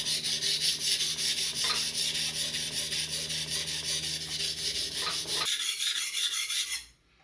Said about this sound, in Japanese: 刃返りが出たら反対の面を研ぐ。